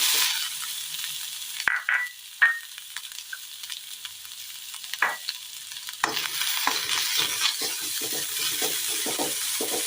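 Grated coconut frying in a pan for a crispy snack, with a steady sizzle and a few sharp scraping stirs. The sizzle drops back briefly, then returns with brisk, irregular stirring near the end.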